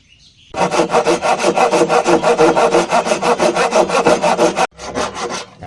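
A hand saw cuts steadily through wood in rapid, rhythmic back-and-forth strokes, loud and close, pausing briefly before a few final strokes, while cutting dovetail joints for a cabinet.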